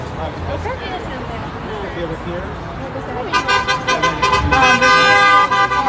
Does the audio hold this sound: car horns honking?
yes